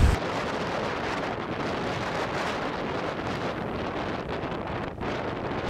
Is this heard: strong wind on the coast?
yes